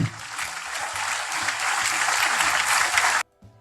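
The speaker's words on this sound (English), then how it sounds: "I think we should give him a round of applause for that" A crowd gives a round of applause for the Governor at a community meeting, dense continuous clapping over a low rumble that stops abruptly, followed by a brief quiet.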